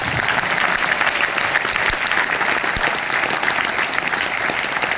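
An audience claps in steady, dense applause at a poetry event, a continuous wash of many hands lasting the full few seconds.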